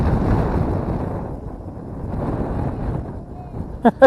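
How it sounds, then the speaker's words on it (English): Strong wind gusting over an open fishing boat, a broad rumbling buffet against the microphone that swells and eases, loud and close, with two short voice bursts near the end. "Can't hear me over the wind?"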